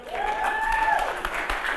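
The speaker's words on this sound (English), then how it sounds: "Let's give him a large round of applause." Audience applauding a hula hoop performer at a family show, a steady wash of clapping with a few whistles or cheers riding over it, lasting throughout.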